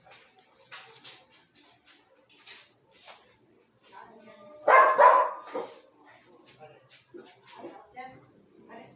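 Pet dogs bark at home; one loud burst of barking stands out midway, with softer yips around it, while a person talks over most of the scene.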